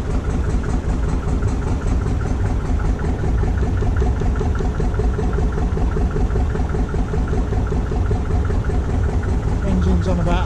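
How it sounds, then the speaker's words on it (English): A narrowboat engine at half speed on a river runs continuously at a moderate pace, its low throbbing rumble and rhythmic knocking filling the whole stretch without pause. "Engine's on about half speed."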